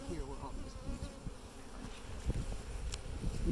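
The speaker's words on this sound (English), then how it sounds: "we'll probably be here where all these bees are." Honey bees buzz continuously around backyard hives in Pilot Point, Texas, a dense, steady drone near at hand with faint wind and handling noise beneath.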